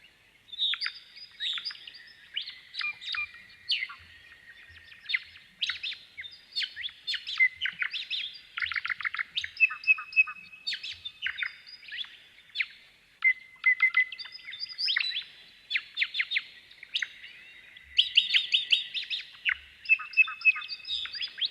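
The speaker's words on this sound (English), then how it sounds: "What you may hear is these two birds calling, and you'll hear them creating this tightly interlocking pattern" Two birds trade rapid chirps and whistled calls in a tightly interlocking duet, notes bouncing back and forth between them in quick alternation, clear and fairly close, with no other sounds.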